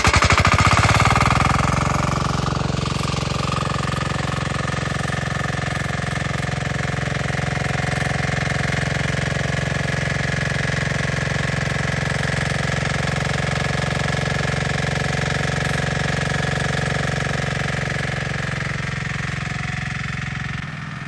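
A small irrigation water pump engine on a farm after drought starts and settles into a loud, steady mechanical drone with a rapid chugging rhythm, close by and continuous for the whole stretch without talk.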